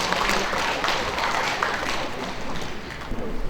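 Applause from a seated audience at a writers' association annual general meeting, during a celebration cake-cutting, rises as a steady, dense wash of clapping that carries on evenly for the whole stretch.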